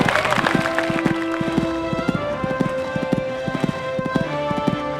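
Rhythmic hoofbeats of an eventing horse galloping across a cross-country course and taking fences, clear repeated thuds with brief irregular gaps, over a steady outdoor background.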